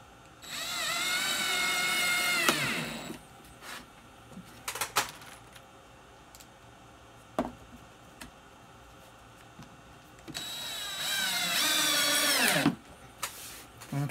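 A power drill drives screws to fasten a workpiece down to a table, with two long whirring runs at the start and end separated by quieter clicks and handling noises.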